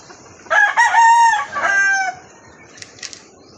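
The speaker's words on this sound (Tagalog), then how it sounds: "Kita ko lang muna yung mga manok ko." A rooster crows loudly and close by, one long cock-a-doodle-doo, followed by a couple of faint clucks from hens.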